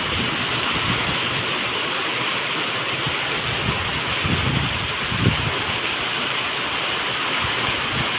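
Heavy monsoon rain pours steadily over a village in Gujarat, a dense, even roar without break, with a few low rumbles that may be distant thunder partway through.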